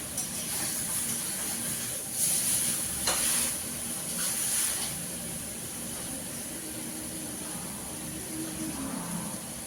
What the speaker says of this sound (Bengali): দেখে দেখে দেখে দেখে ধীরে ধীরে কষাতে হবে মাংসটা।